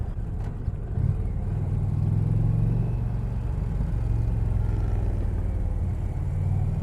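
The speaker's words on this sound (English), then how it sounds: "All Indian bike sounds really nice." A 2020 Indian Challenger Dark Horse motorcycle engine runs with a deep, steady rumbling idle and a low, even pulse that stays close and moderately loud, with one brief blip near the start.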